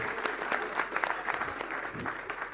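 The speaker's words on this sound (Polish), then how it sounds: "Wielkie brawa! Brawa dla niej." An audience at an open campaign meeting in Poznań applauding a local election candidate: continuous, lively clapping from a hall crowd with sharp individual claps standing out, fairly close and steady throughout.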